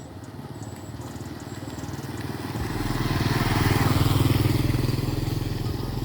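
A Galaxy motorcycle engine runs close by, its rapid putter building into a louder, throatier rev that holds and swells before easing slightly, steady and alone without speech.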